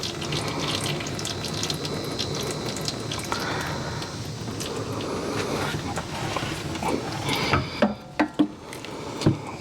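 Used engine oil drains steadily from a flooded Jeep Wrangler JK into a pan, a continuous close pouring trickle that thins out near the end, followed by a few light knocks and clinks.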